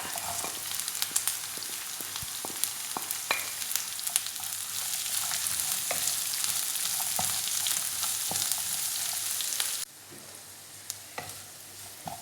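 Onions sizzle and fry in a pan with oil and curry leaves while being stirred, a steady crackling hiss with scattered sharp spatters and scraping stirs, close and continuous, dropping quieter near the end.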